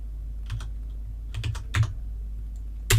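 A computer keyboard typing a chmod command, a few quick bursts of close, crisp key clicks separated by short pauses.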